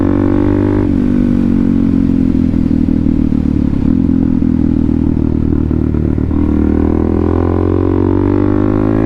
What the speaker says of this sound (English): thought we'd get out and hop on the Supermoto